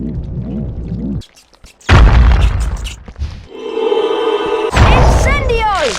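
The Wingardium Leviosa spell effect in the PS1 Harry Potter and the Chamber of Secrets game rises as a loud magical whoosh with a sustained shimmering tone, followed by sweeping sparkly chimes, after a booming thump and a spoken incantation.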